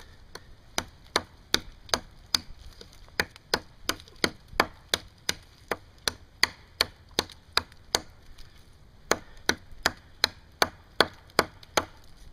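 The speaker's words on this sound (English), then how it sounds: "we'll do some chopping." Wood chopped with a G.I. tanto knife outdoors in the woods, steady repeated sharp thwacks at a brisk regular pace, close and clear, over twenty strikes with a short pause partway through.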